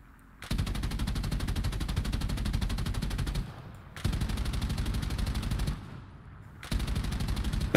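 Machine guns on a PBY-5 Catalina flying boat fire in War Thunder, in three long, sustained rattling bursts with short pauses between, steady and fairly loud throughout.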